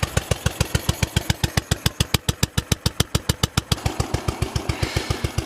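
A motorcycle engine idles steadily up close, putting out a loud, even stream of regular thumping firing pulses with no talking.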